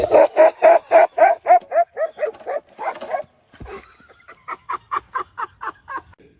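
A small dog barks in a rapid series of yaps, pauses briefly, then resumes with another quick run of higher, lighter barks. Close and loud.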